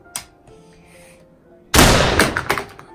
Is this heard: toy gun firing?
yes